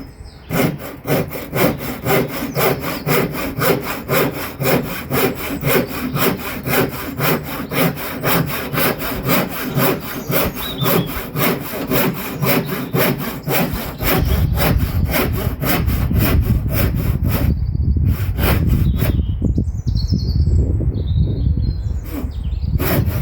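A hand saw cuts wood while trimming a kiln shed roof, with steady rhythmic back-and-forth strokes that are loud and close. The strokes go on for most of the stretch, then rougher final cuts follow, with faint birds in the background.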